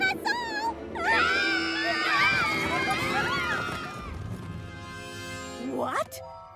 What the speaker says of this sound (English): Screams of delight is what your princess desires, not screams of terror.